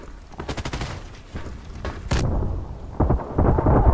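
AK12 rifle gunfire in the shooter game Contract Wars, several sharp bursts of shots in quick succession with loud impacts, no talking.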